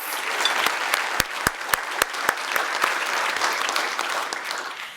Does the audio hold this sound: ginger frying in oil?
no